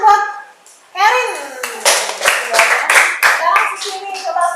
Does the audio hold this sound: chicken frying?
no